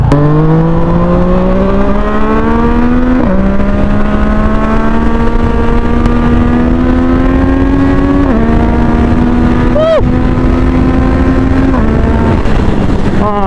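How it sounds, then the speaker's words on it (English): A loud Yamaha MT-09 cross-plane triple-cylinder engine accelerates hard through several gears, pitch climbing steadily then dropping briefly at each shift, with a raspy, continuous roar. "the highlight of this motorcycle is its engine, the cross-plane triple cylinder engine"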